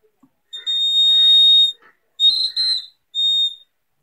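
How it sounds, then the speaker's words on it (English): A homemade water level indicator's buzzer, wired to graphite tips touching water, sounds in three loud, piercing tonal beeps, the first long and the later two shorter with a brief gap, heard alone. "You can see water is touching to the graphite tips, so it's buzzing."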